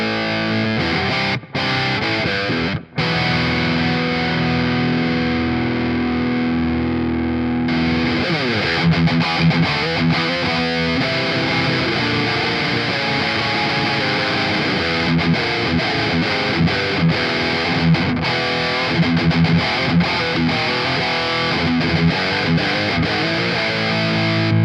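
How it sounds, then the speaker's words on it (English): Electric guitar played through a Joyo preamp pedal on its JCM 900 Marshall amp model at medium gain, giving a crunchy distorted tone with strummed chords and riffs that play loud and steady throughout with no speech. "I want to start off with the JCM 900, which is like a classic Marshall amplifier that you can push and get like a nice tone out of it"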